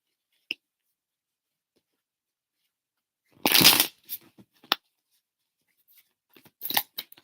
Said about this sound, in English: Let me shuffle these cards up real quick